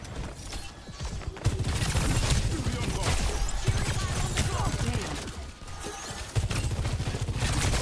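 Gunfire in the video game Overwatch 2, dense bursts of shots and impacts in a chaotic team fight, mixed with game effects and loud throughout.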